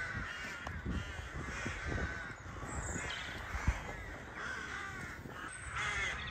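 A flock of crows caws repeatedly over the grounds of Brymore School, harsh calls overlapping from several birds at varying distances, fairly faint against outdoor ambience.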